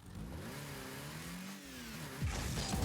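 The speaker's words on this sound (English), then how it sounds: "If you listen just as the engine revs between first and second gear" A car engine in the video game Rocket League revs up through first gear, its tone climbing and falling near the change into second, then a whooshing rush rises at the end.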